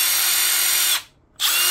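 A Milwaukee Gen 3 cordless drill in drill mode whines at high speed, cuts out briefly for a split second, then spins up again, loud and close.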